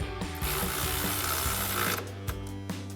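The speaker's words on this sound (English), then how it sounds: "we're going to come in with our 18mm socket on our ratchet and just run this bolt in" An 18mm socket on a hand ratchet runs a bolt in while a 2-inch front leveling kit is fitted to a Ford F-250, producing a quick, close, continuous run of clicking pawl ratchets with a few separate clicks at the end.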